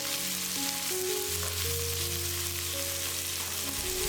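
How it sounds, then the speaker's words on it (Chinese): Sliced garlic, ginger, scallion pieces and green and red peppers stir-fried over high heat in a wok, a loud continuous sizzle with faint tonal hum, no voices. "下蒜片、姜片爆香， 出香味后放入葱段、青红椒，大火翻炒几下"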